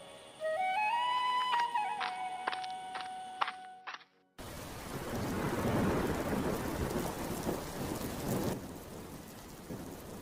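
A short rising musical jingle opens, then heavy rain pours steadily in a Bengali folk-tale cartoon scene, with a dense hiss of drops and a low rumble of thunder beneath it.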